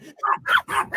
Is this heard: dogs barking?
yes